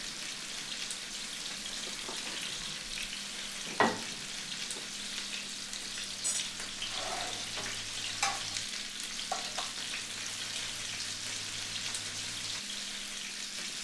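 Food frying in a pan on a stove until browned, a continuous close crackling sizzle with occasional clinks and scrapes of stirring or turning throughout.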